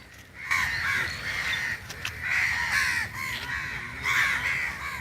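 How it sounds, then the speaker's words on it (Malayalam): A flock of crows cawing outdoors in Chavakkad, Kerala: harsh, overlapping caws that rise in repeated bursts over steady background noise, fairly close and loud. "കാക്കകൾ കൂട്ടത്തോടെ എത്തുന്ന കാഴ്ച സമൂഹ മാധ്യമങ്ങളിൽ വൈറലാണ്"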